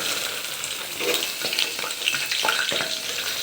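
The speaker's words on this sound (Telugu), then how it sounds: "ఆయిల్ మరిగిపోయిందండి మనం ఒక్కొక్కటి ఇందులో వేసుకోవడమేనండి" Flowers dropped one by one into boiling oil for homemade hair oil crackle and sizzle steadily, with sharper bursts as each piece hits the hot oil; close and fairly loud, no voices.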